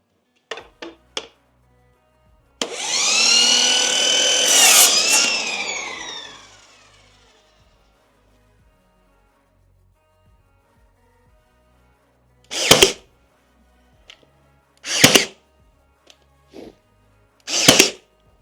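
Power tool trimming a piece of kitchen trim to length during a makeover: a roughly four-second whining cut near the start, surrounded by sharp clicks and a few short, loud bursts later.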